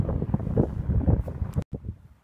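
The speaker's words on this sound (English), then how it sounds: "It's quite windy, but I'll try to film anyway." Gusty outdoor wind in Denmark buffets the microphone with low rumbling thumps, then cuts off abruptly before a softer gust returns.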